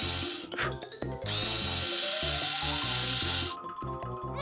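A power drill tightens screws on a wall, whirring loudly in several short bursts and one longer sustained run, heard close up.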